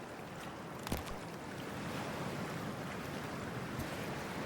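Freezing water rushes and washes in Cyberpunk 2077 as a steady, broad surf-like roar, with one brief splash early on and no talking.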